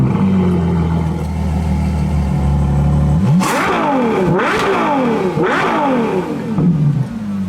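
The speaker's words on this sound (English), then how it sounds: "Take a listen to the 812 GTS revving a little bit." A Ferrari 812 GTS with a 6.5-liter V12 idles with a smooth hum, then rips through sharp revs, climbing and falling in quick loud surges close by.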